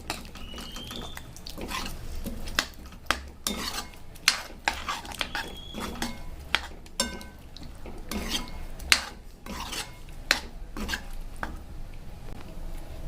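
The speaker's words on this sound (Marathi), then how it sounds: "आता आपल्याला छान प्रकारे असं मिक्स करून घ्यायचं आहे" A spoon scrapes and clanks against a pan while soybean potato masala gravy is stirred with water, giving repeated irregular metallic knocks and wet sloshing, close and fairly loud.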